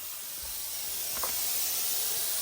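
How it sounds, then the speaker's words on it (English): A steady, continuous hiss of a spray gun painting a Honda Civic drag car runs throughout, loud and even, with no voices. "we're going to go pick up the paint and spray it on this whole thing"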